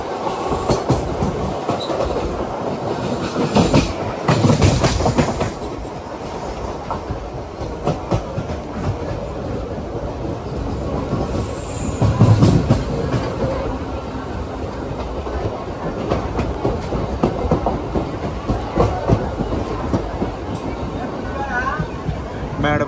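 A MEMU passenger train running from Rajahmundry toward Visakhapatnam, wheels rumbling and clattering steadily over the rails with occasional louder surges and faint squeal, heard from inside the coach with some voices in the background.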